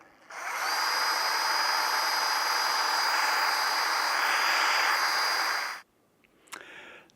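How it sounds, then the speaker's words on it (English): A power drill running in reverse twists a Flemish twist bowstring for a traditional bow, whining steadily and loudly for about five seconds before winding down, followed by a brief faint rattle. "Now I've reversed the power on the drill."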